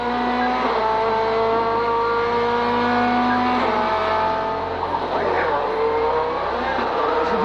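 A 1600 cc turbo WTCC race car engine revs hard to about 8000 rpm and climbs through the gears with shifting pitch, loud and close, while a voice talks over it.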